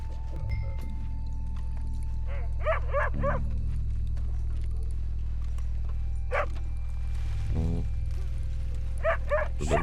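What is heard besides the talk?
dog barking in Red Dead Redemption video game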